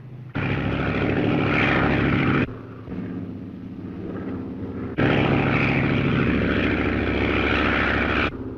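Propeller bomber airplane droning loudly overhead in two long sustained bursts, with a dip to a quieter engine rumble between them and no voices.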